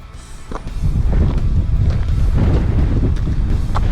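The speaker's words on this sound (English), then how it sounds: "It's very, very windy." Strong wind buffets the microphone in loud, continuous low rumbling gusts, building after the first second and staying heavy throughout.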